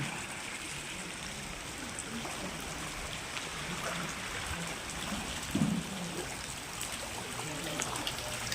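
Knee-deep floodwater flows around an anganwadi building, heard as a faint, continuous wash and trickle in the distance, with a brief louder splash partway through.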